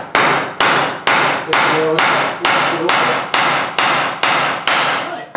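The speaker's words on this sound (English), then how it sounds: "That one set pretty well, but still needs a little hammering." A hammer drives nails into wood while a coat closet is built, striking in about ten loud, evenly spaced blows, each ringing briefly before the next.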